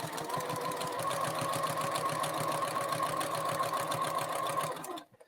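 A sewing machine hums steadily while stitching binding onto a quilt, a close, even run of rapid stitches lasting several seconds before it cuts off abruptly.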